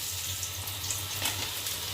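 Garlic frying in oil for a lentil dal gives a steady, close sizzle with a low continuous hum underneath and no talking.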